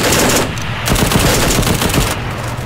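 Sustained automatic gunfire from the Arma 3 video game rattles loud and close in a dense, continuous stream of rapid shots with no talking.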